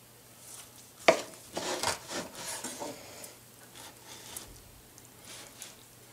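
A knife cuts a barbecue meatloaf cooked on a baking stone, with one sharp knock on the board followed by several rough scraping and sawing strokes, close and fairly soft.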